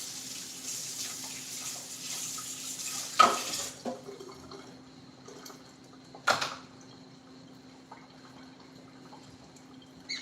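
A tablespoon is rinsed under a running kitchen tap, with a steady water stream throughout and two brief louder clatters and splashes as the spoon is handled, close by and without talk.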